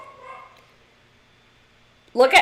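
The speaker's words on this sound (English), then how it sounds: "Dogs barking as usual." Pet dogs bark at home, with a faint earlier vocal sound followed by a sudden loud burst of close, sharp barking at the end.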